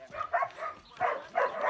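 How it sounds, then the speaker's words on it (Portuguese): Puppies whimpering inside a cardboard box abandoned at a house door, several short high-pitched whines in quick bursts, close and fairly clear. "Abandonaram aqui uma caixa de cachorro"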